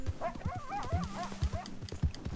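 Horse hooves clopping on the ground while riding in Red Dead Redemption 2, a steady galloping rhythm close up, with whinny-like horse noises and faint game sounds above it.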